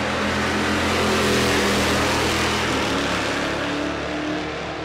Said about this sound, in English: The Chevelle wagon, big block, supercharged, stick shift.